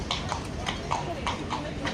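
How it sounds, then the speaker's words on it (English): Horse hooves clip-clop in a steady, evenly spaced rhythm at a busy Crete market, moderately close and clear over a constant murmur of background chatter. "There's a horse."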